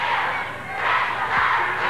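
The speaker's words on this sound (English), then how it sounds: "The crowd here at the Sportatorium are joining in that chant." A wrestling crowd at the Dallas Sportatorium roars and chants in unison during a USWA match, a loud, dense wash of voices swelling and falling across the arena.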